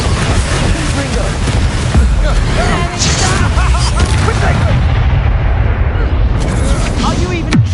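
A Confringo blasting spell explodes in the Hogwarts Legacy game, a loud dense rumbling blast with crackling debris that continues for several seconds under the spoken spell.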